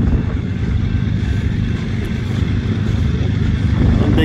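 BNSF freight train diesel locomotives rumble nearby in a steady, loud, low engine drone with a rough mechanical clatter, holding constant throughout with no talk.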